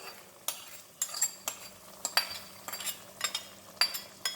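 Fried onions tipped and scraped out of a pan while making mutton chops, giving a string of sharp metallic scrapes and clinks over a faint sizzle. No one talks.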